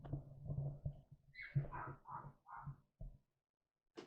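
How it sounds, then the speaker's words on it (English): A dog barks several times in quick succession at mid distance, the sharp bursts fairly loud against background rumble, followed by a short pause and one faint click. "you can hear the dog."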